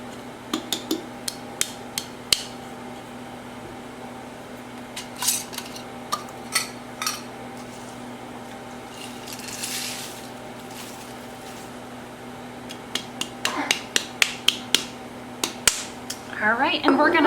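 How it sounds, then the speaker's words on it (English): Glass jars of dry Red Lobster cheddar chicken casserole mix are opened and emptied into a pan, giving sharp clicks, clinks and taps with a brief rattling pour, close by over a steady low hum. "we're just going to open up our jars, pull out our oxygen absorbers, and just dump it right into our pan"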